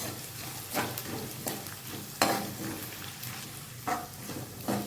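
Garlic frying in oil in a pan for a bitter gourd pickle, with a steady close sizzle and a few scraping stirs rising above it at intervals.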